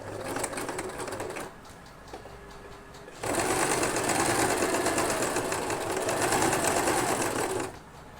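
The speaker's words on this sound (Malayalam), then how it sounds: "എന്നിട്ട് ഈ എൻഡിലൂടെ ഒരു സ്റ്റിച്ച് കൂടെ കൊടുക്കാം" A sewing machine stitches a baby frock in two close, steady bursts of rapid mechanical whirring, separated by a short pause, with no talking.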